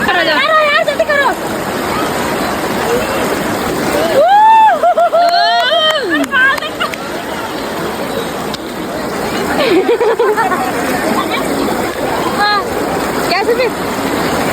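Fast-flowing river water rushes steadily at Triveni Ghat in Rishikesh, a continuous broad roar close by, while several people shout and chatter over it throughout.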